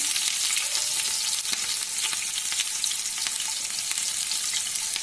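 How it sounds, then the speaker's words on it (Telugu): Onion and green chilli sizzle steadily in a pan for a baby potato curry, a bright, continuous crackle with occasional stirring scrapes, close and moderately quiet, without talk. "ఇట్లా ఫ్రై అయిన తర్వాత ఆనియన్, గ్రీన్ చిల్లీ"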